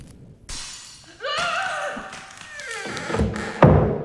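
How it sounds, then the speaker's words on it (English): A vase breaks in the Arkham Horror: Mother's Embrace video game, a sharp glass-like shatter followed by scattered tinkling fragments and a few dull knocks, with no voice. "A closer inspection of the fractured object reveals it was a vase."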